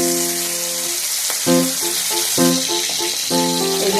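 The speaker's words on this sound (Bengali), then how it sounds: "এই যে মাছটাকে ভেজে নিচ্ছি" Pomfret fish fries in hot mustard oil, a steady close sizzle running under repeated short tonal bursts that cut in and out.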